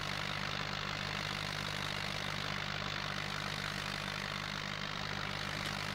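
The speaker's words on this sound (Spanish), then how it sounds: "Vamos a probar el arado con este tractor." A tractor engine from the Farming Simulator 2011 video game idles at a steady, constant drone with a low hum throughout, no talk over it.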